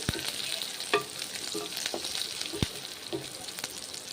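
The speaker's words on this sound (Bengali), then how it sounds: "সর্ষের তেল দিয়ে রান্না করছি আপনারা চাইলে সাদা তেল দিয়েও রান্না করতে পারেন পেঁয়াজটা ভালো করে ভেজে নিচ্ছি" Onions fry in mustard oil in a pan with a soft, steady sizzle, broken by sharp clinks and scrapes of a spatula stirring at irregular intervals.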